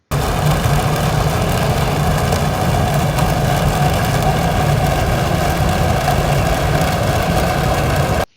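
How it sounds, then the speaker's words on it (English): Deep, continuous low-frequency rumbling from a ship's engines and machinery, a dense, steady drone with a faint throbbing texture that holds evenly throughout, with no voices, before cutting off abruptly. "the majority of the sound produced by a ship is in the low frequencies, the sort of deep rumbling sounds"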